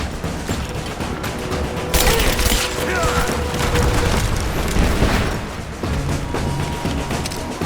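Sustained covering gunfire in the video game Rise of the Tomb Raider, a dense, loud, continuous barrage of shots and booms lasting several seconds with scarcely a pause.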